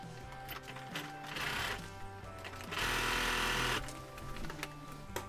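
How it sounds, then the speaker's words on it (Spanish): A sewing machine stitches around a pair of leggings, running in bursts with a steady rapid mechanical chatter and whine, the longest burst in the middle, close and fairly loud with no talk. "Y así vamos a ir a la máquina con la misma puntada. Vamos a coser todo alrededor."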